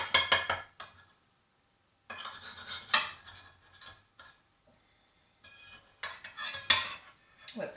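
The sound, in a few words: cutting a slice of egg frittata in the dish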